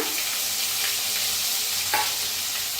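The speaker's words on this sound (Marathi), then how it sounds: "आता तेल चांगलं तापलंय, त्याच्यात टाकूया अर्धा चमचा मोहरी, अर्धा चमचा जिरं, थोडंसं टाकूया हिंग, हिरवी मिरची आणि लसूण" Mustard seeds, cumin, hing, green chilli and garlic sizzle in hot oil, a close, continuous fry with a few spoon scrapes and light crackles.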